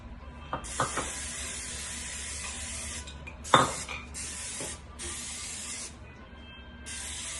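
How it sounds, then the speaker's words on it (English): Several bursts of coconut oil aerosol spray hiss in separate blasts onto two cooking pans, with a few clicks and clatters of the pans in between, close up. "we're gonna spray the coconut oil onto the pans"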